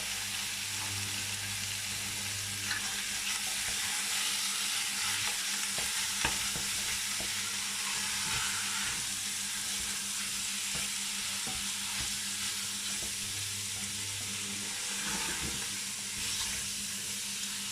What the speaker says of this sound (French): je vais faire dorer la viande avec le petit morceau de beurre